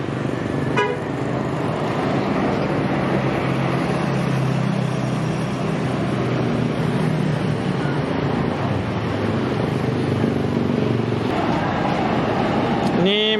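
A medium Putra Perdana tour bus on a roadside runs with a loud, continuous engine roar and heavy wind buffeting. Short horn toots sound near the start and again at the very end.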